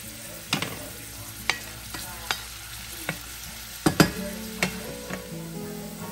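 Garlic and onion fry in a pan with a constant sizzle, punctuated by sharp, spaced clacks of a spatula stirring, close and clear.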